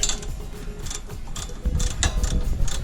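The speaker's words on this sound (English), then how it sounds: "take a 10mm and take off the bolt right there that's holding your brake lines on" A 10mm socket on a ratchet loosens the brake line bracket bolt on a 2010-2014 Ford Mustang during a strut change, giving a close, rapid run of metallic ratchet clicks with a few heavier knocks.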